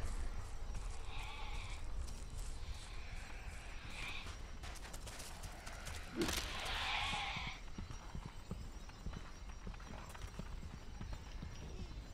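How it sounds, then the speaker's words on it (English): Sheep bleating in the video game Overlord: Raising Hell, the exploding kind, with several short bleats and clattering hoof-like steps over busy game ambience, one louder burst midway. "Goddamn exploding sheep completely immune to physical damage."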